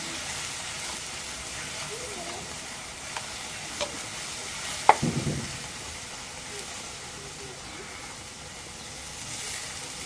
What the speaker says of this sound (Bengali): দিয়ে মশলাটা একটু কষায় নিই।